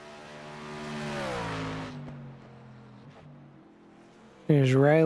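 Race cars on the Charlotte Roval in a racing video game, one engine whining loudly as it rises and passes, fading to a lower drone, then another car roaring in close and sudden, with a commentator speaking over it.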